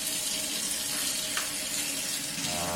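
Hot water from a tap rinses a Royal Enfield Continental GT 650 café racer fairing after a soapy wash, making a steady, close, hissing splash throughout with no speech.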